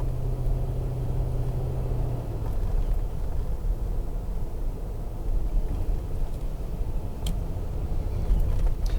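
A car drives along a road toward a golf clubhouse, a steady low rumble of engine and tyre noise throughout with faint ticks, no one speaking.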